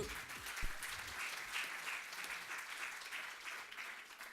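An audience at an award ceremony applauds steadily, a dense crackle of many hands clapping at moderate distance without a break.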